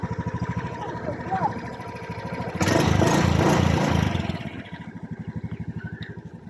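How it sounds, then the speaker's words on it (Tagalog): A Honda Beat FI motorcycle with a wiring issue is started and runs, its small engine rising to a louder rev mid-clip before settling back to a steady pulsing idle, with talk heard throughout. "umandar na ang motor"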